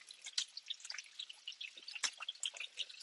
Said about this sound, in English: I'm going to need to get a little bowl in order to drain the oil before I put the butter in